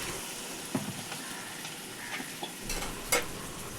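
Sugar and water being stirred into a pan of cooking vegetables, with a soft, steady sizzle and faint scraping under it and a few light clinks near the end.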